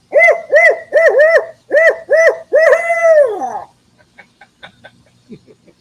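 A national junior owl hooting contest participant imitates an owl with a rapid series of loud, rising-and-falling hoots ending in a long drawn hoot, followed by quiet background noise.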